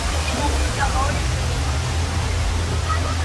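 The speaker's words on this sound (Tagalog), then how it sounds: "Ayan yung falls oh." Balite Falls in Amadeo, Cavite pours as a steady broadband rush of falling water, loud and constant with no breaks, while a person talks faintly over it.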